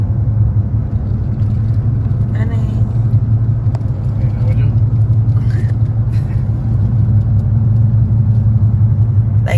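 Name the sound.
stop-and-go road traffic after a hurricane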